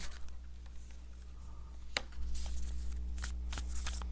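Tarot cards being shuffled and drawn at a reading table, soft papery riffles and sharp flicks and snaps, close up, with a steady low hum underneath and no speech.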